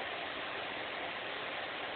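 Water poured steadily into a pot while making Mod Podge soap, a continuous close splashing rush that holds evenly from start to finish with no talk over it.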